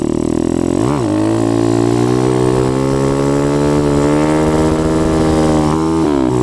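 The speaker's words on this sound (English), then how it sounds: "if you roll into the throttle smooth like that, and then just pop the clutch with one finger, it'll bring it up" A motorcycle engine revs steadily near and loud, with the throttle rolled on and a quick clutch pop for a wheelie; the pitch climbs gradually and then eases off again.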